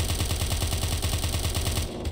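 Rapid, steady automatic gunfire with heavy recoil from a weapon in the video game Of Murder and Moonshine, loud and continuous for about two seconds before cutting off abruptly.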